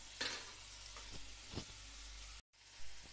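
Cumin seeds hit hot oil in a pan with soya chunks (nutri), giving a steady close sizzle and frying hiss with a few brief stir clatters and a short silent gap.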